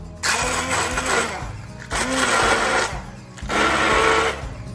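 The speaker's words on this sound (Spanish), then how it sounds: "Y ahora lo que hacemos es con una batidora batir esto." A hand blender whirs through vegan mushroom pâté in three bursts, each a loud buzzing grind lasting about a second and a half, with brief pauses between.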